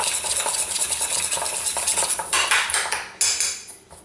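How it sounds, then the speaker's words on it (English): Breading ingredients for a rack of lamb are stirred together in a bowl, with quick, close scraping and clinking of a utensil against the dish that keeps a steady rhythm, then slows near the end. "I'm going to mix all that together"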